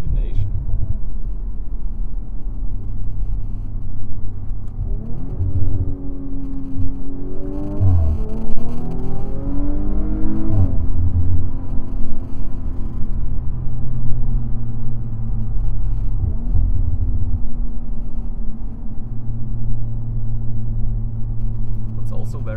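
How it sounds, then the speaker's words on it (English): Abt Audi RS5-R with a six-cylinder turbocharged engine, a steady loud rumble rising and falling through revs, with an audible turbo whine and a couple of shifts, under someone talking. "What's also very special about the sound is that you can hear the turbocharger a lot."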